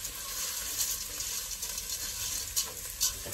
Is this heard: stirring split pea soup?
yes